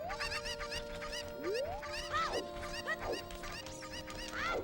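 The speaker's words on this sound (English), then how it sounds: "Chickens. I can't grab them today." Chickens clucking in The Legend of Zelda: Ocarina of Time, several close, repeated cackles and rising squawks over a steady background tone, with no talk.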